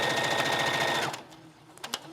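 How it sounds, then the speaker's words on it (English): A sewing machine runs a steady, rapid stitch down a seam with a half-inch allowance on a fabric baby bottle cover, then stops, followed by a few small clicks and handling sounds. "I'm simply going to take this over to the machine. I've allowed myself a ½ inch seam allowance, and I'm going to sew all the way down."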